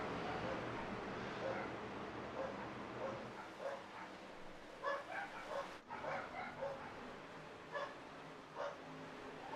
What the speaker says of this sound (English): can you guys hear my dogs going nuts, Jer? Just one bark, nothing bad.